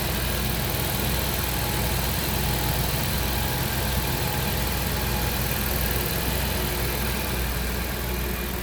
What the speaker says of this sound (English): See how smooth that Jag V12 runs.